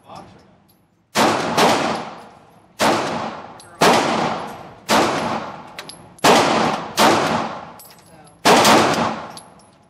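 A Walther P99C handgun fired outdoors, with about eight loud, sharp shots spaced roughly a second apart, each followed by a short echoing tail.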